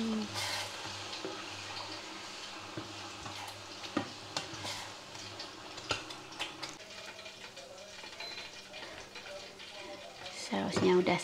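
Macaroni and tomato sauce being stirred in a frying pan, with a soft continuous sizzle under repeated scraping and clinking of a utensil against the pan, close and moderately quiet throughout.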